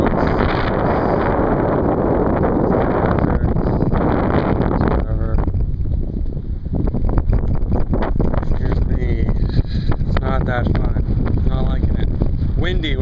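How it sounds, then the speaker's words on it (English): Strong desert headwind and crosswind in the Turkmen desert buffet the microphone as a cyclist rides through, a loud, constant roar and rumble throughout, with a voice talking over it in the second half. "strong headwind at the moment, crosswind. Probably can't hear me, so I'll speak up."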